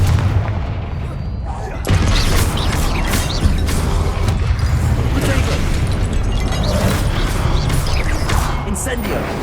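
Repeated Confringo spell explosions from Hogwarts Legacy boom and crack in quick succession, loud and dense, alongside shouted spell names and ongoing combat noise.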